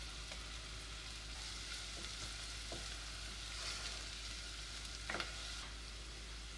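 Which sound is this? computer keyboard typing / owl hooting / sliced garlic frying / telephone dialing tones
sliced garlic frying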